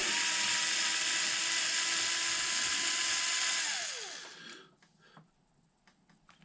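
A power hex driver spins axle nuts onto a Traxxas Maxx RC truck, a loud, close high-pitched whine that holds steady for about four seconds, then winds down and stops, leaving faint handling clicks.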